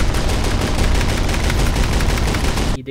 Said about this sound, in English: Just aim and shoot, buddy.